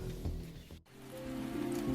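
Steady rain falls in a prehistoric La Brea tar pit landscape, a continuous soft wash of drops with a brief dip in the middle, loud and close with no talking.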